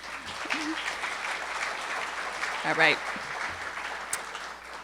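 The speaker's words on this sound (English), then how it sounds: "Let's give them a round of applause." Audience at a civic State of the City event gives a round of applause, a moderate wash of clapping running under a voice that speaks briefly over it.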